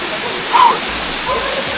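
A waterfall pours into a lake on a Madeira hike, making a loud, constant broadband rush that fills the whole stretch, with a brief swell in the middle.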